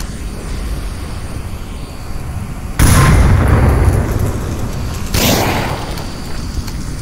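Grenade explosions in the video game Onward, two loud broadband bursts a couple of seconds apart, each with a lingering rumbling tail over a low ambient background.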